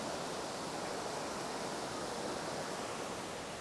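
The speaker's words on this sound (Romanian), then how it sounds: "ar trebui să fie căderea de apă" A waterfall in the cloud forest near Ella, Sri Lanka, pours as a steady, dense hiss of falling water, even and unbroken, with no voices over it.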